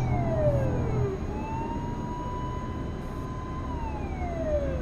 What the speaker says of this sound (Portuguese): tem uma ambulância atrás de mim